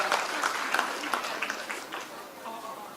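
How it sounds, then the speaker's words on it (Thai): Audience applauding at a performance during a Khon Kaen zero-waste event, scattered moderate clapping mixed with crowd chatter, fading slightly over a few seconds. "ขอเสียงปรบมือให้กับ ตัวแทนจากมหาไทยศึกษาเมืองพลครับ"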